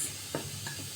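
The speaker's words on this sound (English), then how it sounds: "I'll mix." Dry ingredients for lemon mandazi dough, including salt and lemon zest, being stirred in a bowl, a soft close scraping and swishing against a steady background hiss.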